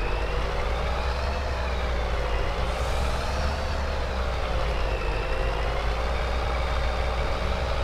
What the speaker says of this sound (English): As this truck finds its way up to the gears.